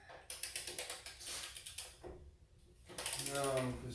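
A hand ratchet clicks in quick repeated bursts while loosening a motorcycle wheel during a DIY tire change, sharp close ratcheting strokes, a pause, then a brighter scraping mechanical stretch at the end.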